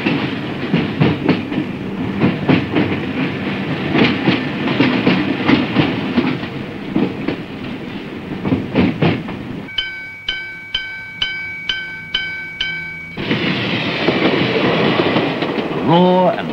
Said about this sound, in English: Rumble of the railways.